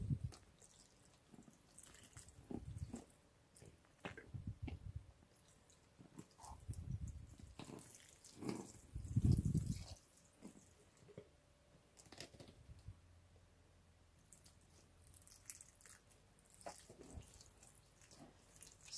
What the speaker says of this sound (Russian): поливаю только там, где сухо